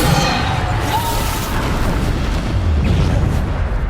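Bombarda spell blasts from a Hogwarts Legacy battle on hard difficulty, heavy booming explosions under dense combat noise that stays loud and continuous, with no clear gaps between impacts.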